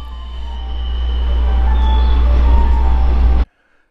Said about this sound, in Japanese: そのホームに七尾行きの列車が入線します。